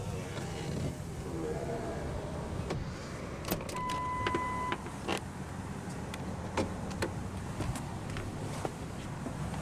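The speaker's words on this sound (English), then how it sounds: "The driver's window is automatic down." A power window on a 2004 Ford F-250 Super Duty XLT SuperCab rolls down with a faint steady motor whine, accompanied by scattered light clicks and creaks inside the cab.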